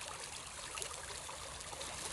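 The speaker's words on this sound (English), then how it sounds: "Now we're letting the creek run for a good 20 minutes, half hour to get all the blonde sands washed out." Creek water runs steadily through a gold sluice on an Ohio river, a continuous broadband trickling and rushing with no pauses, fairly close and quiet, with no voices.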